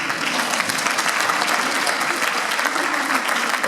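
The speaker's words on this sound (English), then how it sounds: "Give them all a round of applause, please" Steady applause from an audience at a winter concert, dense and continuous clapping with a faint crowd murmur, holding at an even level throughout.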